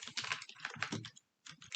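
Close, quiet typing on a computer keyboard, a quick run of soft key clicks, a short pause, then more keystrokes.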